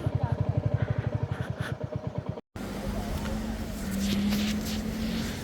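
Motorcycle being parked in Cherrapunji in Northeast India, its engine idling with rapid pulsing thumps that slow and cut off, followed by wind-like outdoor rumble and a low hum.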